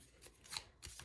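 Tarot cards being handled and shuffled during a pick-a-pile reading, giving a short, faint papery riffle and flick of cards close by with no talking.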